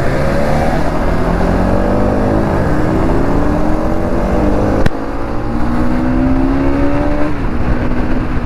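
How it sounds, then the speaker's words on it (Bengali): A Bajaj Pulsar NS motorcycle revs up loud and close as the rider pulls the throttle, the engine pitch rising repeatedly through the gears with no talk over it. "এতক্ষণ পরে গাইজ একটু এনএসটাকে পুল দিতে পারলাম।"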